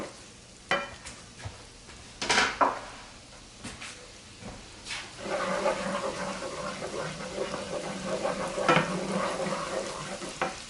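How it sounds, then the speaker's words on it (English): Garlic sizzles in a hot pan while a spoon stirs it, early knocks and scrapes giving way to a steadier, louder frying hiss that builds through the second half. "Now I'm going to let the garlic run around in there for about 30 seconds. I'll keep stirring it."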